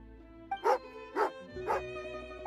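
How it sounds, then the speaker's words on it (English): Angry dog in a video game giving three loud, evenly spaced barks about half a second apart over a quiet musical background. "Oh, angry doggy."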